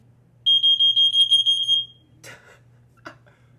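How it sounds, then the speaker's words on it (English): A travel smoke alarm with an escape light sounds a rapid run of shrill, piercing beeps for over a second, followed by a couple of brief, softer rustling bursts. "This thing is a travel smoke alarm with an escape light."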